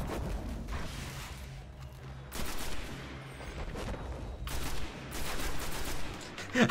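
Gunfire in Destiny: a few separated heavy shots and short bursts ring out against a low game background, moderately loud with no speech.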